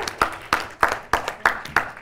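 Sharp hand claps ring out in a brisk, evenly spaced beat on a televised student quiz show, about six close, distinct claps in two seconds with no talk over them.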